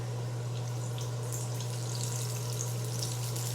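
Food fries in a crowded-free pan with a steady, close, continuous sizzle and crackle, a constant hiss with faint pops and no talking.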